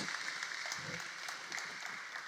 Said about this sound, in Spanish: si lo va a aplaudir, apláudalo